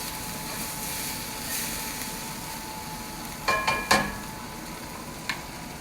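Tofu fries crisp and browned in a cast iron pan with a soft, steady sizzling hiss, broken by a few quick clinks and scrapes from stirring near the end.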